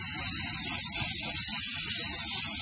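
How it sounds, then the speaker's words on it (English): Starting fluid sprayed from an aerosol can into the intake of a 2003 Ford Expedition XLT with a 4.6-litre engine that cranks but won't start, one continuous close, loud hiss lasting the whole moment. "I'm gonna spray some of the liquid into it"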